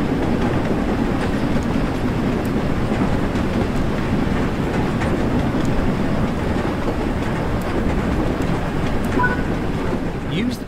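A train in the game Train Sim World 3 rumbles steadily along the rails, a continuous heavy roll with faint rhythmic clicks and no pauses.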